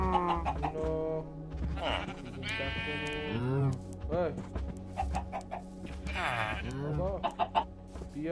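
Minecraft chickens on a game farm cluck repeatedly at close range, mixed with bleating sheep, while a person talks over them.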